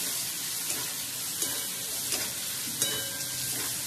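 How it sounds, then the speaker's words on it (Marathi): Dill leaves sautéing with turmeric in a hot pan make a soft, steady sizzle, with a few light clicks of stirring scattered through. "हळद घालूया जराशी आणि परतून घेऊया छान"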